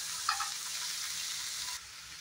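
Spice masala for chicken curry sizzling and frying steadily in a pan, a bright continuous crackle with a brief stir near the start and a slight drop in level toward the end.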